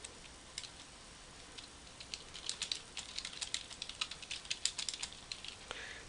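Computer keyboard typing builds from sparse, faint key taps into a quicker irregular patter of close clicks as a blog post is written, over quiet room noise with no talking.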